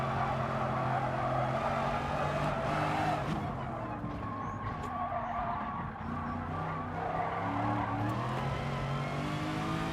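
Race car from the GT Sport video game lapping a circuit, with a steady engine drone, shifting pitch and tire squeal running continuously and loudly throughout.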